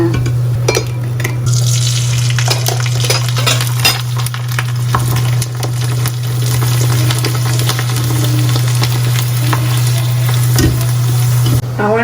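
Papad fries in hot oil with a loud, continuous sizzle close by, broken by the scrape and clink of stirring in the pan.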